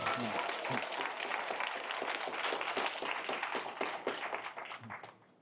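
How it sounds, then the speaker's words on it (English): Audience applause at a lecture series event fills the room in a steady patter of clapping, moderately distant, tapering off toward the end. "Can we give Malachi a big round of applause, please?"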